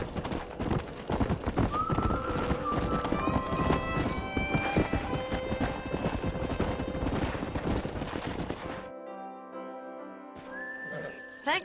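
Horses in the video game Red Dead Redemption trot with steady, loud clip-clop hoofbeats and repeated whinnies over a music bed, then the hooves stop and a sustained tone with a brief whinny follows.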